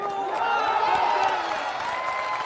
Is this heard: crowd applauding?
yes